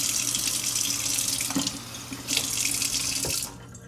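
Tap water runs steadily into a glass being filled to about one and three-quarter cups for a homemade Dawn Platinum dish soap power-wash cleaner, a close, continuous splashing pour that briefly shifts in tone and then cuts off near the end.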